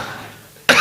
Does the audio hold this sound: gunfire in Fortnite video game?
no